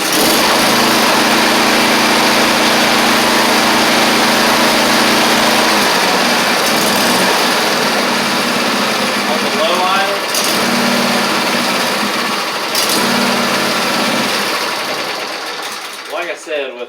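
A Briggs V-twin engine on a John Deere S170 riding mower runs at a steady, buzzy idle close by, loud and even, with a short dip near the end before it winds down. A voice speaks over part of it.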